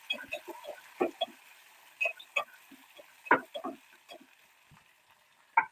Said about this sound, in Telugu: ఇగో మిగిలినయన్నీ ఏసేస్తున్నాను. టమాటా, ఉల్లిపాయ, పచ్చిమిర్చి